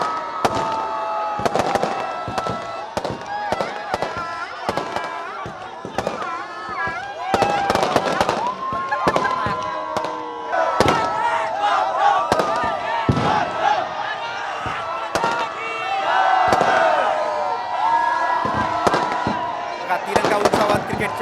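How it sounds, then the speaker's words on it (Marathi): Firecrackers burst in Mumbai and Pune street celebrations of India's Champions Trophy win over New Zealand: a rapid, irregular string of loud cracks and bangs over a cheering crowd and voices. "त्यांनी फटाके फोडत कसा जल्लोष केलेला आहे"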